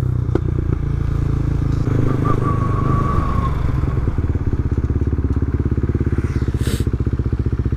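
A red motorcycle passing by rumbles steadily, its throbbing exhaust note holding close and loud throughout with faint clatter in the background.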